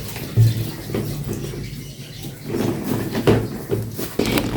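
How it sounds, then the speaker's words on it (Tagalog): Water trickles and splashes as freshly washed fruit drains, a soft, uneven running sound at close range with small spatters throughout. "I-drain ko muna to lahat bago ko ilagay sa lagayan ba."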